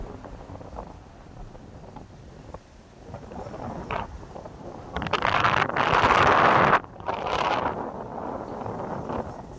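Strong wind gusting by a lake shore at a fishing area, rushing and buffeting a nearby microphone with rising, swelling bursts of noise that peak loudly mid-way.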